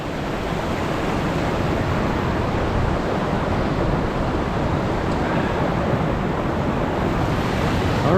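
The river at Cucumber Rapids in Ohiopyle State Park runs as a loud, steady, broadband rush of fast water, constant and close, in winter and with no voices.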